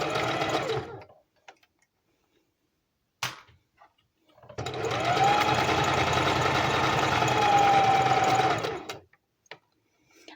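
A sewing machine stitches across a lace-trimmed corner with a fold, running in a short burst and then a longer steady stretch with a slightly rough, laboring tone, close and loud, with brief clicks between runs.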